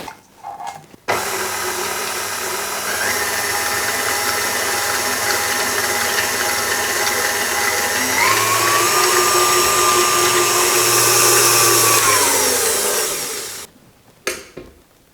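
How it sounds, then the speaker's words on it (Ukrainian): An electric hand mixer with a whisk attachment beats egg yolks with sugar and a pinch of salt, giving a steady close motor whine that rises in pitch partway through, then cuts off near the end. "Збиваємо міксером насадка вінчик до посвітлішення та збільшення в об'ємі."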